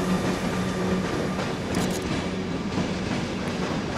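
Train passing near Warszawa Gdańska station in Poland, a continuous close rumble of wheels and railcars with steady clatter and a brief higher squeal, loud and alone with no talk.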